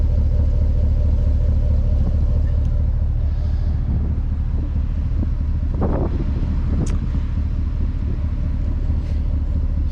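A 2019 Chevrolet Silverado pickup's exhaust gives a steady low rumble from a continuous drone, with wind noise on the microphone and a few brief mechanical clicks layered over it.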